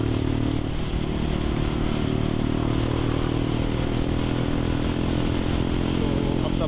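A motorcycle rides along with a steady, continuous engine drone and road noise that stays loud and close throughout, with no talk over it.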